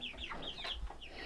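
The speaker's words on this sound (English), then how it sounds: "So in here we've got about 100 chickens." About a hundred chickens, a mix of hybrid layers, cluck and squawk together in an old goat shed on a farm, a close, busy overlapping chorus with no talk.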